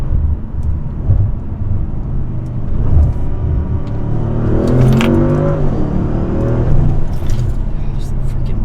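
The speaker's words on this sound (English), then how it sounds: "Gosh, this car is a freaking rocket." An Audi S6/S7 with a 034 Motorsport billet transmission upgrade accelerates hard, its engine rumble swelling and rising from inside the cabin, with keys jangling and a person talking over the drive.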